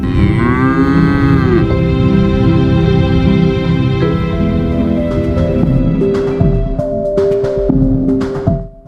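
Cattle from a herd of about 150 cows on a ranch in Tennessee Colony, East Texas, low long moos overlapping one another, loud and close, with no talking.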